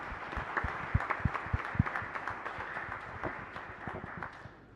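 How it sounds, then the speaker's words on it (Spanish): Congregation at a Catholic Mass in a chapel gives a round of applause to the servers, irregular individual claps standing out over a soft wash, moderately close and tapering off at the end. "a todos los que han hecho hoy ese servicio acá en esta misa, podemos brindarle un fuerte aplauso en gratitud"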